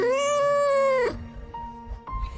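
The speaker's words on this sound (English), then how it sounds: "Cats will rarely show you affection when you're around, but a few days of not seeing each other and they'll be like this." A cat gives one long, loud, drawn-out meow up close, affectionate after days apart, followed by quieter shuffling and a faint short chirp.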